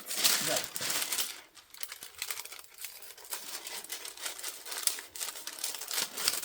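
Paper is folded and crinkled for a cutting craft, giving a close, continuous rustling and crackling with a few brief pauses.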